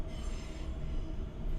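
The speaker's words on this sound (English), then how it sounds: "Sorry about the train in the background there." A train passes in the background with steady rumbling and high wheel squeal, a continuous rail roar with no speech.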